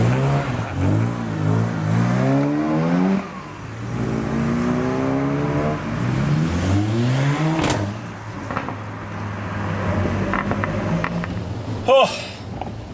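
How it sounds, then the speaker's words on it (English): A car's exhaust burbles and revs at an autosolo motorsport event, a continuous engine drone rising and falling in pitch through several revs, close and loud, with a sharp pop near the end. "I thought you might enjoy the exhaust appreciation tunnel."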